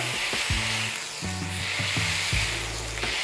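A breakfast burger patty sizzles loudly on a Blackstone griddle, with a bright steady hiss and several scraping knocks as the metal spatula presses it down, close up with no talking.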